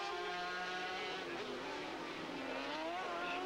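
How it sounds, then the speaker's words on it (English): Sidecar racing outfit at the 1991 FIM Sidecar World Championship at Paul Ricard, its engine note dropping under hard braking then climbing again flat out down the straight, loud and continuous with the pitch sweeping down and back up. "Hard on the brakes there, then flat out again down the straight"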